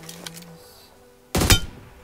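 A single loud gunshot from an M4 rifle in PUBG Mobile bursts out near the end, sharp and close with a brief ringing tail, after a quieter stretch of game ambience.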